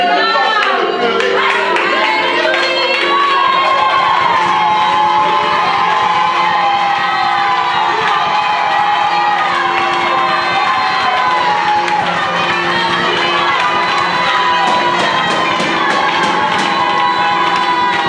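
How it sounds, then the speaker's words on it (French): Church congregation shouting and cheering for joy at a worship gathering, a dense, loud crowd roar with whoops and scattered clapping sustained throughout, voices layered over one another. "lorsque nous poussons des cris de joie vers l'Éternel"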